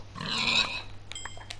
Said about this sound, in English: Come here, piggy.